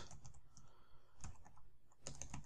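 Code is typed on a computer keyboard in quick, irregular bursts of light clicks, pausing mid-way before another rapid flurry of keystrokes, close and fairly quiet with no talking.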